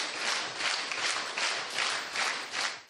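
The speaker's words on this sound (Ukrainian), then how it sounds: "Після перегляду стрічки глядачі, які прийшли на прем'єру, аплодували стоячи." An audience at a film premiere in Odesa gives a standing ovation, with dense, steady clapping that swells and eases in waves for a few seconds, no voices standing out.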